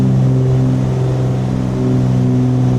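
Twin piston engines of a Cessna 414AW Chancellor in Microsoft Flight Simulator hold a steady, loud, droning hum with strong low harmonics as power comes up to climb settings, continuous with no speech.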